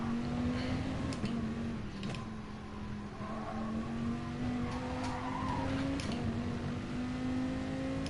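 A Porsche Taycan in Gran Turismo Sport whines along with a steady electric-motor tone that rises and falls, tires squealing at times, a continuous near, loud race-car drone.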